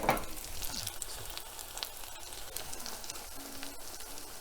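Pancetta sizzles and crackles steadily in a hot pan, a quiet constant hiss with small pops, close by.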